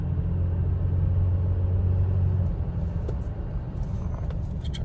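Toyota Tacoma truck engine in stop-and-go traffic on a freeway, a low droning rumble heard from inside the cab that holds a steady tone, then eases as lighter road noise and faint clicks follow.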